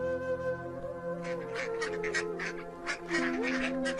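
Several ducks quack in an overlapping chorus over a steady low hum, the calls growing busier partway through.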